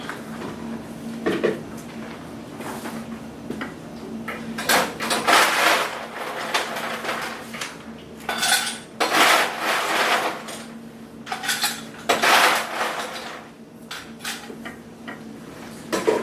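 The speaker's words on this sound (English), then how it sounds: "So I'm going to take my cup and put ice in it." Ice scooped from a freezer bin into a cup, with repeated rattling crunches and clattering cubes in bursts, close and fairly loud.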